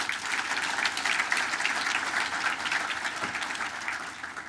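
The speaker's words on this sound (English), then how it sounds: "Another round of applause." Audience applause fills the room at a Northglenn business appreciation breakfast, a steady, dense wash of clapping that holds even throughout and eases slightly at the end, with no talk over it.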